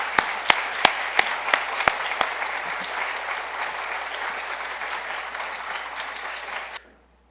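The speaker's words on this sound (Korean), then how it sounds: "다 같이 박수로 환영하십니다." A church congregation applauds in welcome as a guest deacon from Busan steps up, a few sharp claps at the start swelling into steady, full-room applause that runs for several seconds and then stops abruptly.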